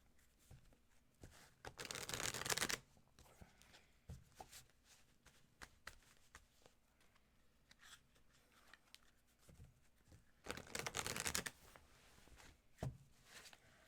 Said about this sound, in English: Uh-oh, that was a misshuffle.